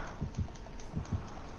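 A video game heartbeat effect: low, muffled double thumps repeating in a steady rhythm, two pairs over a short span, over a dull hum.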